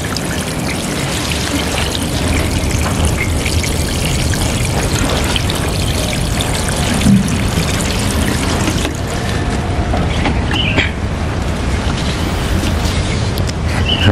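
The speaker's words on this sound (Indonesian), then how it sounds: "Nah ini coba langsung kita siram ya" Water poured steadily onto sand in a bonsai pot during watering, a continuous close trickling and splashing with no break.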